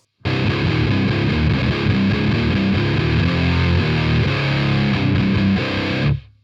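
An electric guitar played through a Biyang DS12 distortion pedal in bright mode, heavily distorted chugging riffs, loud and close, stopping abruptly.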